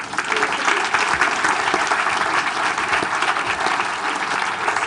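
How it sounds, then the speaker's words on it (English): An audience at a science of chocolate talk applauds a woman, a steady, fairly loud spell of clapping from many hands across the room, with no one speaking. "we should give her a round of applause"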